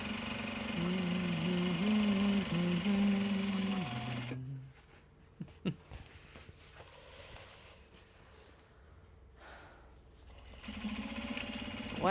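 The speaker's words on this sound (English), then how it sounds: "we're still going on top stitching" Sewing machine running steadily while top stitching Japanese fabric bags, a loud whirring drone for about four seconds that stops abruptly, leaving quiet room sounds, a few small clicks, and the motor starting up again at the very end.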